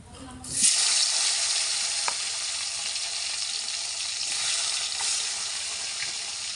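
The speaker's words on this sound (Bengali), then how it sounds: "এই যে তেল গরম হয়ে গেছে আমার, মাছগুলো এবার দিয়ে দিই" Small taki fish drop into hot oil in a pan with a sudden loud burst of sizzling that settles into a steady, close crackling fry.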